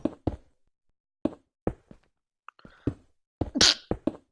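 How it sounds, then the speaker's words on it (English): A person sneezes once, loudly and close, near the end, after a series of sharp, sparse knocks and taps spaced irregularly across a quiet room. "It was a sneeze."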